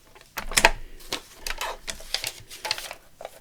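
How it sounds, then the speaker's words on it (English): Tim Holtz paper trimmer slicing through paper, a series of quick scraping, clicking strokes close up, with one sharper snap early on and lighter rustles after. "So let's just trim that with a good old Timmy trimmer."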